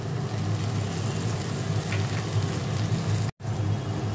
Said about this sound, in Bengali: এর মধ্যে আমি টমেটো কুচিটা দিয়ে দিচ্ছি।